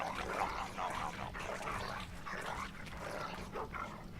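A dog in a Game of Thrones video game lets out a run of short, muffled barks and yips at a moderate distance, repeating at an uneven pace over a low steady background rumble.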